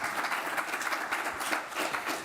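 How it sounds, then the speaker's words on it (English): Audience applause for a presenter at an academic research event, a short steady round of clapping from a roomful of people, moderately loud and continuous. "Please give him a round of applause."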